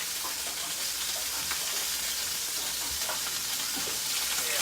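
Surf and turf browning in oil in a pan, a steady close sizzle and hiss of frying with faint crackles throughout, no talk.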